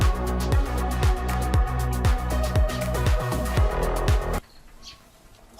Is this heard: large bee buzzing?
yes